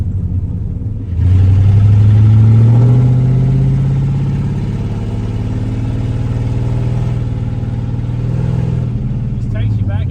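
A classic car drives along a country road, its engine rumbling low and steady from inside the cabin, with a rising note early on and a continuous drone throughout.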